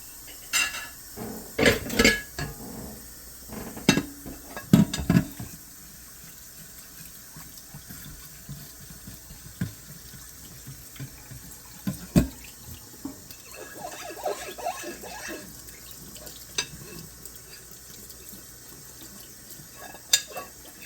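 Dishes get washed by hand in a sink under a running tap: water flows steadily while plates, pots and cutlery clink and clatter in loud, irregular bursts close by.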